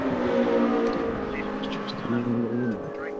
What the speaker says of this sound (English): Trust me, guys, this car sounds absolutely fantastic.